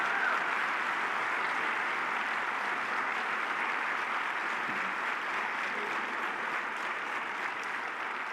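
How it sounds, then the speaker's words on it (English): An audience applauds factory workers from Lordstown and Moraine at an evening lecture, a steady, dense wash of clapping held evenly throughout. "let's give them all a round of applause."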